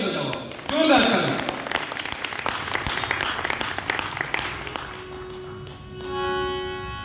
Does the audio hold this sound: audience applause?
yes